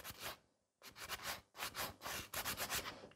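Nail file working over nail product during a pink chrome manicure, a series of quick scratchy rubbing strokes in bursts with brief pauses between, close and fairly quiet.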